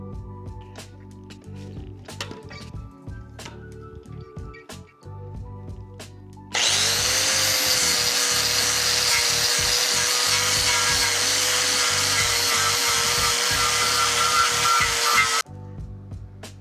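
A power sander works on a Harley-Davidson stunt tank, a sudden loud, steady high whine kicking in partway and running about nine seconds before cutting off, with quieter shop noise and scraping before it.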